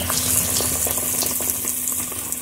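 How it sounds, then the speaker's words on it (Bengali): Potato pakoras deep-fry in very hot oil, a loud, dense, steady bubbling sizzle heard up close with no talk. "তেল একদম দারুণ গরম দিতে না দিতেই লাল লাল হয়ে যাচ্ছে ফুলে যাচ্ছে"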